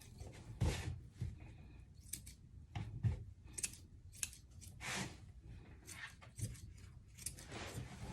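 Scissors cutting a fabric sleeve piece, a series of short crisp snips in an irregular rhythm, close and quiet with no talk.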